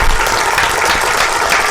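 Steady audience applause at a festive Eid day program, dense and continuous clapping close by throughout, with no voices rising above it.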